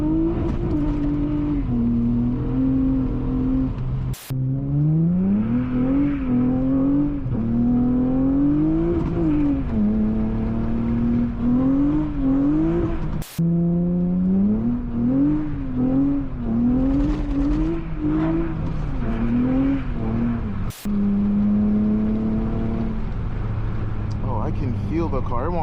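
A 2004 Honda Accord V6 coupe with a six-speed manual revs up and down as gears shift, the pitch climbing and dropping repeatedly, loud and close from inside the car.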